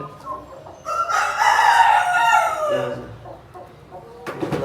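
Tiger breed chicken on a poultry farm, loud close clucking and drawn-out calls in a burst lasting a couple of seconds, followed by quieter clucks and a short sharp call at the end.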